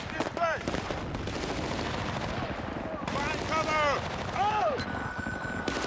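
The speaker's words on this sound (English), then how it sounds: "That MG's hitting me again." Machine-gun fire in Battlefield Bad Company rattles in rapid bursts through a busy battle mix, with whistling incoming rounds and explosions layered over it.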